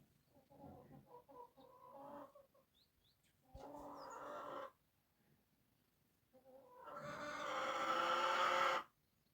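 Chickens cluck and squawk close by in a few separate bursts, the last one long and insistent, with quiet gaps in between.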